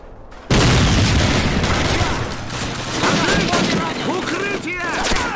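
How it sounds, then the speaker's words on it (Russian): Gunfire in the video game Call of Duty: United Offensive, a loud, dense battle of rapid machine-gun bursts and rifle shots mixed with shouted voices and whistling projectiles, sustained throughout. "Продолжайте стрельбу!"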